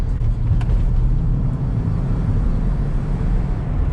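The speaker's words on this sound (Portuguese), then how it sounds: "o André abriu o escape agora" A 3.0-litre six-cylinder Opel Omega Diamond with its exhaust cutout opened, driving in heavy traffic, gives a loud, steady, deep engine rumble that continues throughout.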